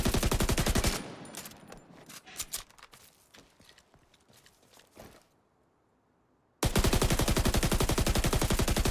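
Gunfire from a weapon in The Division 2 video game: a rapid, loud burst of automatic shots, then a stretch of scattered softer clicks and reports fading toward quiet, then another dense full-automatic burst.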